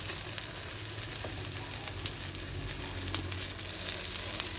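Eggplant omelette (tortang talong) fries in a pan with a steady, close sizzle and crackle, punctuated by occasional small pops, alone without any talk.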